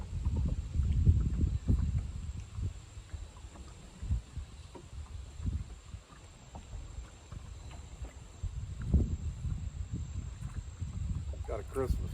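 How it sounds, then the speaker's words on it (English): Strong wind buffets the microphone on a fishing boat out on Leesville Lake, a steady roaring rumble that swells and gusts throughout, with someone talking over it at times. "Sorry about the wind. If you can't hear me, it's whipping today"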